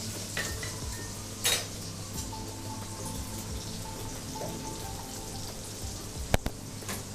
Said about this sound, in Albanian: Tani do shtojmë hudhrën.